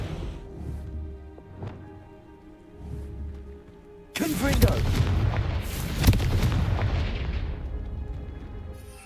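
A Confringo fire spell blast in Hogwarts Legacy bursts in suddenly and loudly after quieter game ambience, then rolls on as a dense, booming roar with a sharp crack partway through, slowly thinning at the end.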